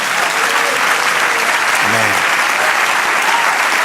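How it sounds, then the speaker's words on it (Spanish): A church congregation claims loudly and steadily in dense, sustained applause that fills the room, with a brief voice rising under it midway. "Denle otro aplauso al Señor."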